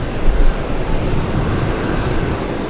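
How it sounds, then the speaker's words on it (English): Loud, close rushing roar of an Airbus A321 airliner landing at JFK Airport, heard alone without voices and steady through the short stretch. "A321 landing up"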